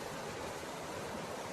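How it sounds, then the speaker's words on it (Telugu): Steady, broadband rush of a mountain river in Uttarakhand running over rocks down from the hills, constant and unbroken with no voices. "ఆ సౌండ్, ఏదైతే ఆ వాటర్ పారే సౌండ్ ఉందో"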